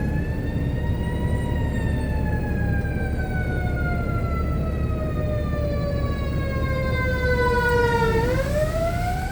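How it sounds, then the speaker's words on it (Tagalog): Fire truck and ambulance sirens wail on a rainy day, a loud, sustained siren tone sweeping slowly downward before dipping and rising again near the end, over steady traffic rumble. "Busy ngayon po yung mga fire truck, mga ambulance."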